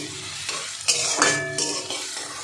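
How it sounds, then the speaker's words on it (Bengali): Onions fry in a pan for paneer tadka, a soft sizzle broken by several scraping stirs of a spatula against the metal, close and brief. "দেখুন পেঁয়াজটা মোটামুটি ভাজা হয়ে গেছে"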